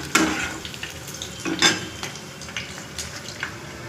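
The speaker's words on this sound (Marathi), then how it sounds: "कांदा भजी परतत आहे." Onion bhaji fritters fry in a pan, with sizzling under light scraping and clinks of a utensil stirring, several sharper metallic taps standing out close by.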